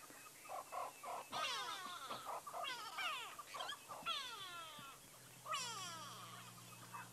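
Grey go-away birds call in alarm at owls in the African bush at sunrise, a series of loud descending nasal wails repeating one after another, with other birds faintly behind.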